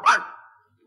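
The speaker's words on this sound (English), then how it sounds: "He'll give one bark for walkies, and 2 barks for the other thing." A single sharp dog bark from a 1965 radio comedy, short and fairly close, decaying quickly into silence.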